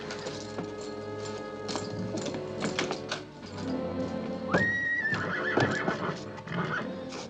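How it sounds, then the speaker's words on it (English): Horse in an old western film, quiet clip-clop of hooves under a musical score, followed by a clear rising whinny partway through. "Rider's coming. Better put the horses in the barn."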